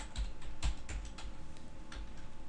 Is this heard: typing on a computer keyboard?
yes